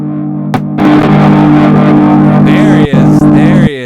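Electric guitar run through an Old Blood Noise Excess V2 pedal with reverb, giving a loud, sustained distorted tone that swells in after a brief pluck, holds with shimmering chorus-like modulation, then cuts off into a reverberant tail.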